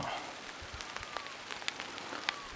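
Light rain patters softly on surfaces at Phu Soi Dao in Thailand, scattered drops ticking against a quiet steady hiss, faint and nearby.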